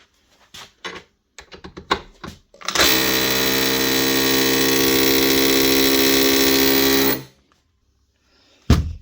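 A few clicks and knocks, then a Makita DHP243 cordless SDS+ hammer drill, repaired after losing its hammer action, whirs loudly and steadily for about four seconds before cutting off, followed by silence and a brief clatter.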